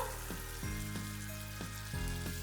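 Fettuccine goes into a hot sauce in a pan with a strong close sizzle, and a few spoon scrapes and stirring knocks punctuate the steady frying hiss.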